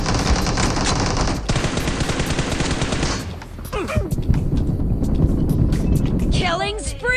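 Rapid automatic fire from an M416 rifle in a video game: a loud, sustained burst for about three seconds, then quieter game sounds with voice lines over the action.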